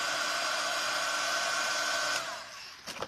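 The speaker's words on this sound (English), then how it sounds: "turn the dryer on and hold it close to his joint" A hair dryer runs steadily at close range, heating a doll's leg joint, with a constant whooshing blow for over two seconds before the airflow drops and a few light handling knocks follow.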